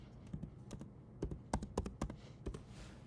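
Quick keystrokes on a computer keyboard typing a short search phrase, a series of separate soft clicks with a few louder taps, faint and close, with no talking.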